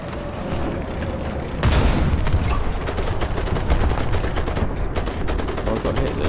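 Artillery fires during a War Thunder battle. A heavy blast opens a loud, sustained barrage of booming shots and dense rapid gunfire that rumbles on without pause.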